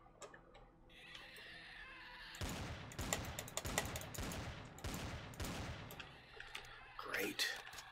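Growler gun in the video game Empyrion firing a rapid burst of repeated shots, loud and sustained for several seconds, with quieter game ambience before and a sharp sound near the end.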